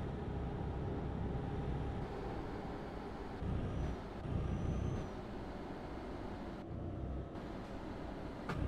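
An air-braked truck rumbles along under a steady engine drone, with short hissing brake releases breaking through partway, and no one speaking.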